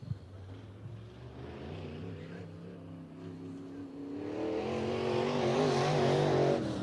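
A modified dirt track race car, number 54, rolls onto the track with a low engine rumble that builds and revs louder toward the end, heard alone without talk.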